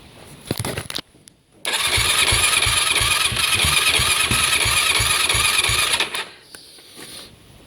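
A 2009 Yamaha YFZ450 ATV engine, being rebuilt, starts after a few sputtering attempts and runs loud and steady with a fast thumping beat for about four seconds before cutting off.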